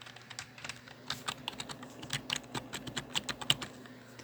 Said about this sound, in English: it's got that slight mechanical sound and feel, but it's not a mechanical keyboard at all.